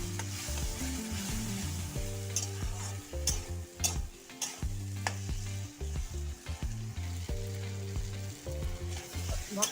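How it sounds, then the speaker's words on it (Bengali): Ground pumpkin seed, cumin, dried chili and ginger masala sizzles steadily in a pan, with repeated scraping strokes of stirring close by and no voices. "মশলার সাথে ভালো করে আবার ভেজে নিই"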